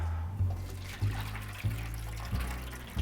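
Watery buttermilk poured off a batch of freshly churned yellow butter, a low, steady liquid gurgle and trickle with a few soft surges, close by and alone.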